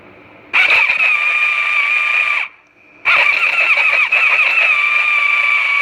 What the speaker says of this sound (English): we are going to spin it over and you're going to see what's going on and what the noise is